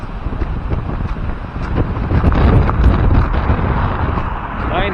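Strong wind roars and gusts loudly across the microphone outdoors beside a road, a continuous close buffeting that swells and eases, with a voice briefly heard.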